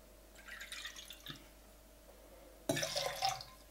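Cold brew coffee poured from above into a small measuring cup: a faint trickle and drip early on, then a louder, splashy pour in the last second, with no talking.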